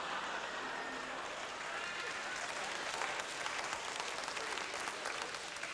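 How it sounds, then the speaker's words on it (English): A studio audience gives a steady, sustained round of applause at a comedy stand-up show, a dense wash of many hands clapping alone at an even, moderate level throughout. "it's a round of applause for the car there"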